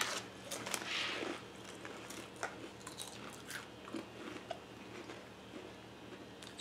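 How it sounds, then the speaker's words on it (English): Someone bites into thin cheese-flavored crisps, producing a run of quiet, close crunches and chewing sounds at an irregular pace, with no talk. "the thinnest crisps often pack the loudest crunch"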